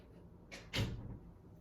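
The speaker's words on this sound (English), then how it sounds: "Let me open the door for these damn cats." A house door is opened to let cats in, giving a brief rattle and a louder knock-like thump from the latch and frame, fairly faint against a quiet room.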